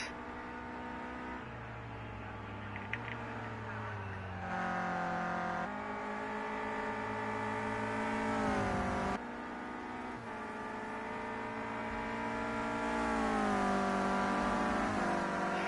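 Clio Cup race cars at Brands Hatch GP sliding through corners, engines revving loudly and continuously with shifting pitch as cars pass close by, layered over one another.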